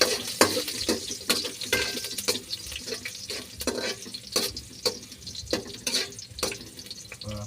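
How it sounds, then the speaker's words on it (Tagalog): Garlic frying in a smoking-hot wok, a busy crackling sizzle broken by repeated scraping stir strokes, close and steady with no talk. "Usok na yung kawali. Bawang."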